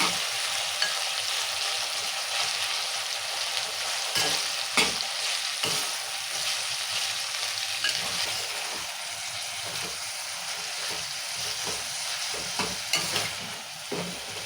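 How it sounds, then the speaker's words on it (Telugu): Curry leaves, coriander and mint fry in oil for a village-style tomato and green chili chutney, giving a loud, continuous close sizzle with occasional stirring scrapes and no talking. "నూనెలా మంచిగా మగ్గాలా కొత్తిమీర పుదీనా అన్నీ మంచిగా మగ్గాలి"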